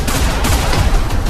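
Dense, sustained gunfire from a 2023 action-comedy trailer, a loud continuous fusillade of overlapping shots with heavy low booms, filling the moment without any talk.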